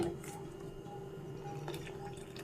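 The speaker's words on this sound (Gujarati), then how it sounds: "હવે આપણે એમાં ગાજરનો પલ્પ છે ઉમેરી દઈશું" Carrot pulp tipped into a pot of boiling milk, giving soft wet drips and liquid splashes, fairly quiet against a steady low background hum.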